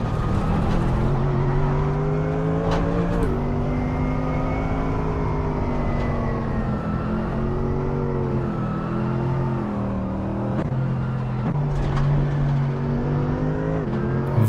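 An LMP3 race car in a racing video game weaves to warm its cold tyres, its engine droning loud and steady throughout, pitch rising and falling with throttle, with no voices.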